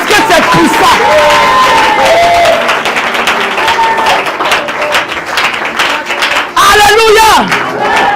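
A church congregation cheers and shouts in praise during a deliverance service, a loud sustained crowd roar with clapping and raised voices that swells again near the end.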